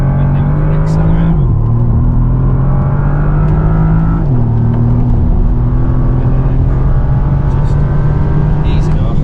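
A car accelerates hard through the gears during on-track driving tuition, its loud, close engine climbing in pitch and dropping briefly at two gear changes, with voices talking over the steady roar.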